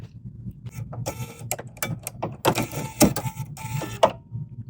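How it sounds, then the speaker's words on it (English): A B 990 sewing and embroidery machine running its automatic needle threader, giving a series of close mechanical whirs, clicks and clatters in short bursts with a few sharper knocks near the end. "this is the button that we're going to press now to make the needle thread."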